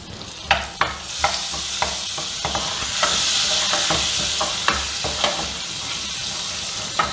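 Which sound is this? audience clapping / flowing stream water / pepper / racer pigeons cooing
pepper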